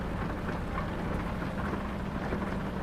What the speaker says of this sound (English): Oh, it's set to 100 right now. I was tired of never seeing rain.